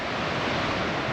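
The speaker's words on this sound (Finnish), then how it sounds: "Siellä vähän vettä ja kohina kuuluu" Continuous loud roar of rushing water from river rapids in Norway, a dense, steady broadband wash with no pauses and no voices.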